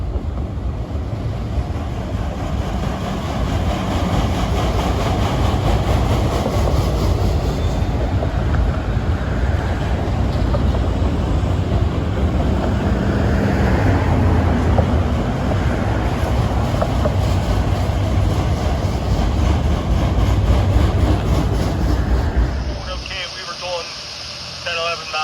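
A Norfolk Southern freight train of automobile rack cars rolls past in autumn, its loud, continuous rumble buffeted by heavy wind noise and then cutting off abruptly near the end.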